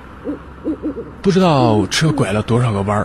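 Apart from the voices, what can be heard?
owl hooting in village trees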